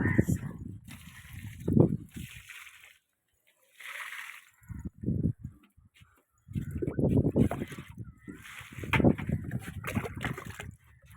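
Homemade liquid plant fertilizer, made from kitchen peels, is poured from a bucket onto garden plants, with intermittent sloshing and splashing between stretches of conversation.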